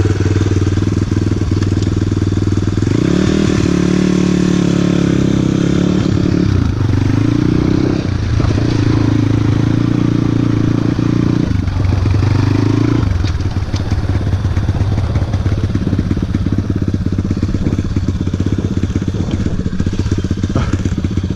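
A YCF 150 Classic pit bike engine runs loudly and close by for a long stretch, revving up and holding steady at higher pitch for several seconds, then dropping back to a rough, crackling idle.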